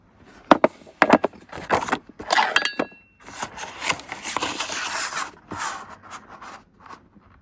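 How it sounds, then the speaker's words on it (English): A small paper cutter slicing double-sided paper: sharp clicks and thuds followed by longer scraping strokes of the blade, close and moderately loud, with no talking. "I'm going to use my small paper cutter."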